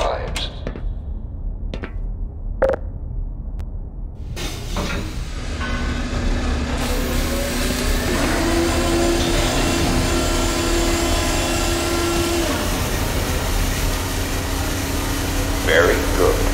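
The anti-mass spectrometer rotors in Black Mesa start up. A few sharp clicks come first, then a broad mechanical hum swells in and settles into a sustained whirring drone with a faint tonal whine.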